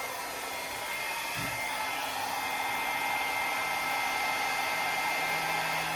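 A hair dryer blows steadily across acrylic pour paint on a canvas, a loud continuous broadband whoosh that holds close and unbroken throughout, with a brief low thump near the start.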